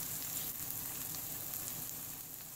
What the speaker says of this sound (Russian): обжаривать лук